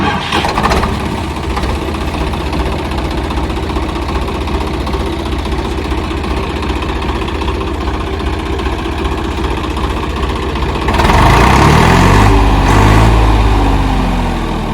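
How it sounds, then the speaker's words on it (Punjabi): A 2000-model 855 tractor engine rumbles steadily at idle, then revs up louder for a few seconds near the end before easing back down. "ਸਾਊਂਡ ਲਿਓ ਟਰੈਕਟਰ ਦੀ"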